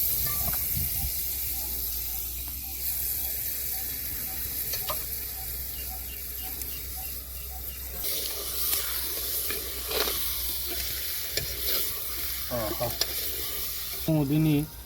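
Half a kilo of chicken sizzles and hisses in a clay pot as it is stirred, a steady frying crackle with scraping stirs and clatters that pick up toward the end.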